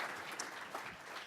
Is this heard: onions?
no